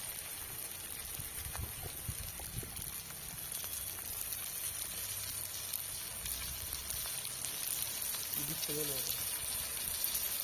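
Tomatoes fry with onions in a pan, giving a constant soft sizzle and hiss beneath a person talking.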